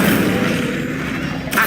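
Incendio fire spell cast in a video game: a loud, sustained roaring whoosh of flame with rumbling low end, holding steady before a brief shift in tone at the very end.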